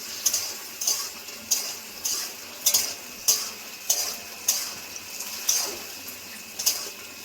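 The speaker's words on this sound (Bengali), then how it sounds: "সসের সঙ্গে চিকেনটা নাড়াচাড়া করে নেব।" Chicken being stirred through a boiled sauce in a pan for chili chicken, with a steady rhythm of scraping strokes about every half second over a soft sizzle, close and moderately loud, no talking.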